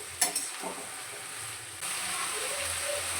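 Tomatoes frying in a pan for tomato gojju give a soft sizzle, opened by a few clinks of a spoon against the pan, then a louder, steadier hiss that swells partway through and continues close by with no talk.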